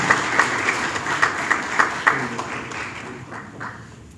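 Audience applause welcoming the chief guest at a public tax forum in Lahore, a burst of hand clapping with a few sharp individual claps, tapering off over a few seconds.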